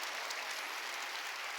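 A church congregation at a Sunday worship service breaks into applause: a brief, dense, even wash of many hands clapping at once, filling the room without pause and with no voices over it.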